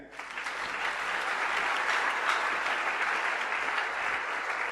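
A church congregation bursts into loud, sustained applause, dense clapping filling a large hall steadily from start to finish.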